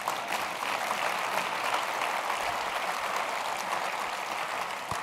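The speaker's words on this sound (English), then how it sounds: "Can I get a round of applause for that?" Keynote audience at a leadership summit breaking into sustained applause, a dense, even wash of many hands clapping that holds steady loudness throughout with no voices on top.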